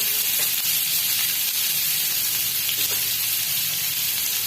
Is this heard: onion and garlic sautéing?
yes